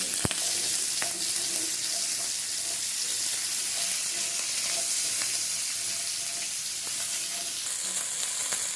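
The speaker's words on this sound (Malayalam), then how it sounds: "ഇത് നന്നായി നമുക്ക് വഴറ്റിയെടുക്കാം, ഫ്രൈ ചെയ്തെടുക്കാം" Small onions fry and are sautéed in a pan, a loud, even hiss of sizzling oil with scattered spatula taps and pops, close up with no talking.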